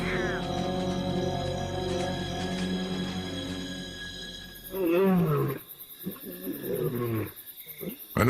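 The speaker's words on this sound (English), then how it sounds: "the lioness is calling for her pride" A lioness calls out for her pride in the wild, a series of deep, loud moaning roars close by, ending in shorter grunting calls.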